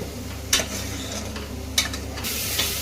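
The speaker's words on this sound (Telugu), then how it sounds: "హై ఫ్లేమ్లో పెట్టుకొని మసాలా అంతా పచ్చి వాసన పోయేంత వరకు బాగా నూనెలో వేయించుకోండి" Masala for mutton curry frying in oil over a high flame, a constant loud sizzle broken by a few sharp spoon clicks against the pan.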